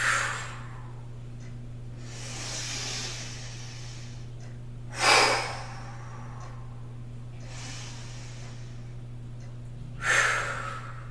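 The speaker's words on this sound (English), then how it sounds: "I'm going to go ahead and speed it up. Inhale and open mouth exhale." Slow breathing-exercise cycles, each a long airy inhale followed by a sharp open-mouth exhale, repeating about every five seconds close to the mic over a steady low hum, with no talking.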